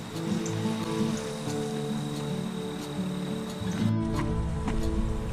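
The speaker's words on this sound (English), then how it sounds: "Thank you, Mother Nature, with the rain." Steady broadband patter of rain with a constant hiss and faint drips, continuous throughout, growing slightly louder near the end.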